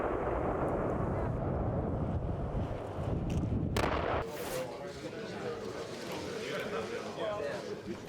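Artillery fires during a Ukrainian military exercise near Chernobyl, about 15 km from the Belarus border, with artillery, infantry and air-defence units taking part. Heavy booming blasts and rumbling crackle sound beneath a narrator's voice.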